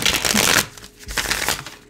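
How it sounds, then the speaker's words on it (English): A tarot card deck being shuffled by hand, a dense papery riffling that runs loud for about half a second, then continues in softer repeated bursts, with no talking. "It's part of the magic, shuffling."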